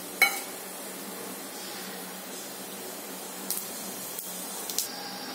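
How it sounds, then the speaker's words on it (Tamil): Mustard seeds and urad dal fry in hot oil with a steady, even sizzling hiss, broken by a few sharp pops and spits near the start and toward the end. "இப்போ உளுந்த பருப்பு கொஞ்சம் வதங்கிடுச்சு."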